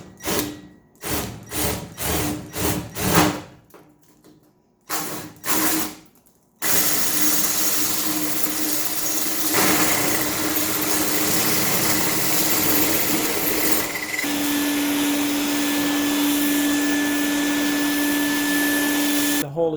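A power drill boring a large hole for a fan during a battery power-wall build, with short stop-start bursts followed by a loud, continuous whining drone that holds steady to the end.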